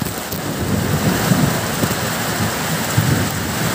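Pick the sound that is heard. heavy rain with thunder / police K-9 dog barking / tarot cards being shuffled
heavy rain with thunder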